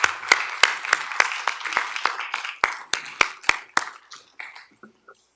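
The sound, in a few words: audience applause for a team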